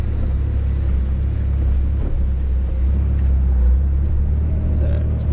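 A 4x4 crawls across soft beach sand on the Bribie Island beach access track in third gear at low throttle, its engine a steady, loud rumble with constant road-like noise throughout.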